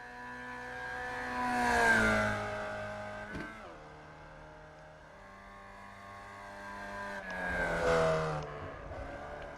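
Race cars lapping Oulton Park circuit in iRacing Formula Vee sim racing, engines rising as cars pass near around two and eight seconds, with a steady lower drone of more distant cars between the passes.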